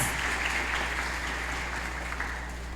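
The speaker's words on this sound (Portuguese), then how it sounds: "Uma salva de palmas e muito obrigado pelo trabalho de vocês." Congregation at an Easter Mass in a church clapping in thanks, a soft sustained patter of hands over a low steady hum, fading slightly toward the end.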